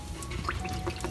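A bird cage perch dips into water during cleaning, making a soft, faint pouring and trickling splash that lasts about a second.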